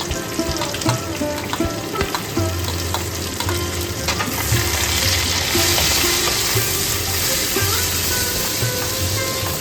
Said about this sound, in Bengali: পেঁয়াজগুলো দিয়ে হালকা নরম হওয়া পর্যন্ত পেঁয়াজগুলোকে আমরা ভেজে নেব।